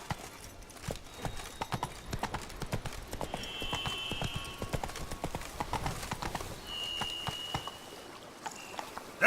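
Rapid galloping hooves of a horse in The Witcher 3 video game pound steadily throughout, with faint water or stream sounds and a brief whinny-like tone in the background.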